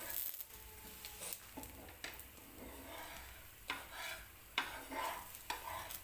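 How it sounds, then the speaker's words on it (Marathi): A dosa being flipped with a spatula on a griddle: soft scraping and light metallic taps over a faint background sizzle, quiet and close, with several brief scrape bursts. "आणि आता डोसा जो आहे तो पलटून घ्यायचा आहे."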